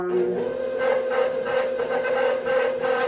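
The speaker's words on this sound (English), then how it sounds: "So we are gonna continue mixing our bananas" Mashed bananas get mixed in a bowl with eggs and vanilla for a banana chocolate walnut cake batter, giving a continuous rhythmic scraping and churning at close range with no talk.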